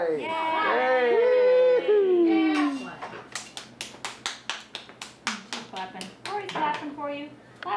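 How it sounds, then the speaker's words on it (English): Children and family at a seventh birthday party clap hands in a quick run of sharp, close claps after a child's high sung or shouted voice, with talk mixed in between. "Clap, Cory."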